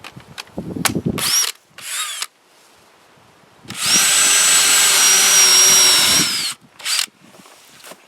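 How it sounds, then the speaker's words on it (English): A power drill bores a hole for a lag bolt through a deck board at an off-grid cabin, with short trigger bursts and then one long steady whining run before stopping. "I'll just go in the middle of it and drill it out right here."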